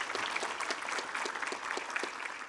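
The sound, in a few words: audience applause for panel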